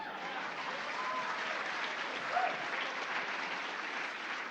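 Steady audience applause from a live crowd at a political talk event, a dense wash of clapping holding at even loudness throughout with no break.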